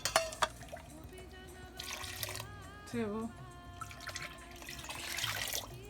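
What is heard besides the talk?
water poured into pot while cooking kadhi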